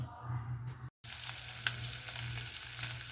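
Meat frying in its own rendered fat in a pan for esfiha gives a steady, soft crackling sizzle that runs throughout, with a brief dropout near the start and occasional sharper pops.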